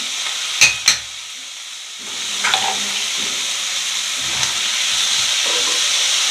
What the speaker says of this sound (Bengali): কড়াটা আমার গরম হয়ে গেছে। আমি এবার চিংড়ি মাছগুলো এর মধ্যে ছেড়ে দিলাম।